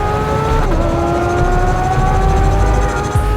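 Porsche 911 GT3 (992) engine revs loudly and close, a high-pitched whining note that climbs steadily, briefly dips, then keeps rising.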